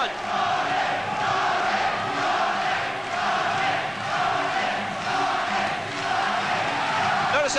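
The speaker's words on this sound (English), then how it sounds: "The crowd setting up the chant of Ronnie, Ronnie." A Muay Thai fight crowd at Picketts Lock, London, chanting for British fighter Ronnie Green. It is a dense, steady roar of many voices that fills the whole stretch, close and loud, with a rising and falling chant-like swell.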